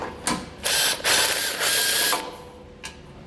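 A ratchet removing 15mm bumper beam bolts on a 2020 Chevrolet, close, crisp clicking in several bursts separated by short pauses, the last brief and fading.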